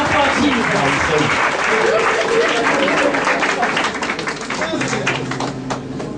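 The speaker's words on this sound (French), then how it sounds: "Clap for Jesus." A church congregation applauds, dense sustained clapping from a large crowd filling the room, close and loud, with voices speaking over it and the clapping thinning slightly toward the end.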